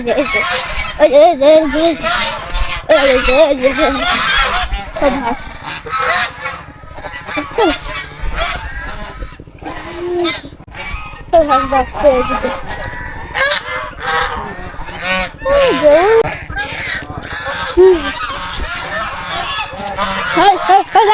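Geese honking repeatedly close by, a loud flock calling in bursts on and off throughout, with a person talking at times between the honks.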